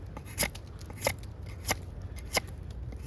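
A wooden fire-making board being trimmed and smoothed, four sharp, evenly spaced cutting scrapes over a quiet background.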